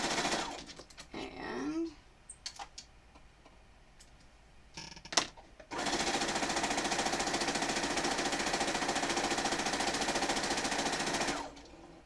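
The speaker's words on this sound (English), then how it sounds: "And then sew." A sewing machine stitching a Tetris-pattern quilt runs in a steady, rapid mechanical rattle for about six seconds, close and loud. Before it starts there are brief handling clicks and a short spoken word.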